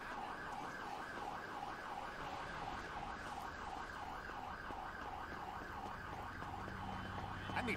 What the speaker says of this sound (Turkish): Evet, ambulans geliyor.